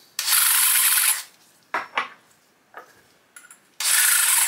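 Two sustained bursts of harsh metallic rasping as a drill-mounted deburring tool scrapes the edge of a brass cartridge case, with a few short clicks and taps in between.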